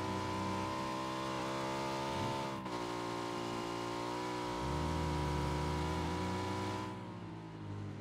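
A vehicle engine drones in PUBG while driving, a sustained steady hum with shifting pitch as it revs up, drops and rises again, then eases off near the end.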